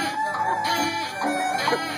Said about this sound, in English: So blow into your duck call.